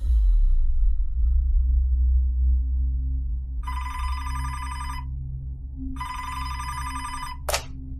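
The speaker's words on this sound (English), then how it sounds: "Detective Alan Lead grabbed the phone on the second ring" A telephone bell rings in two clear bursts over a low ambient rumble, set in a 911 dispatch call at a little after 3 a.m., followed by a short sharp click.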